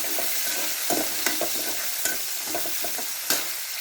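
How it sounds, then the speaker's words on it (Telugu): Onion pieces tossed into a pan of hot tempered oil with curry leaves, green chillies and seasoning seeds sizzle steadily and close, while a spoon scrapes and stirs in irregular knocks. "ఉల్లిపాయ ముక్కలు వేసేస్తున్నా."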